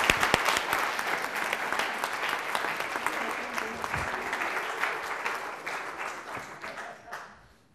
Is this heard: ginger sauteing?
no